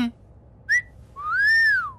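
A man whistles in a comedy film scene, giving a quick high chirp and then a longer swooping note that rises and falls, clear and close in a quiet room.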